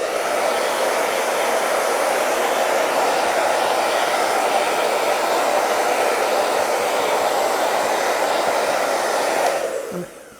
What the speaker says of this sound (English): I'll just do a little bit more of the dryer.